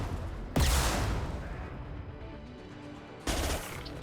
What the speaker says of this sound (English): My submachine gun does not have a very far range when it comes to targeting people